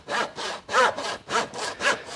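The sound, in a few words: hand saw cutting through a lamb carcass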